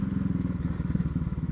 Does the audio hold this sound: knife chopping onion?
no